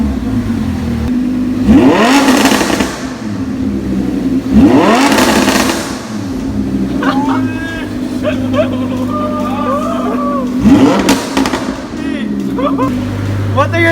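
A Lamborghini fitted with loud FI Exhaust tips revs hard in three long rising-and-falling bursts, close and loud, with a steady idle rumble in between and a voice briefly audible.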